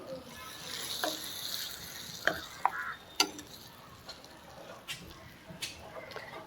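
Tempering stirred into a Nepali chukkani vegetable curry: faint wet stirring with a few sharp clinks of a spoon against the pot, close but quiet, over a low background hiss.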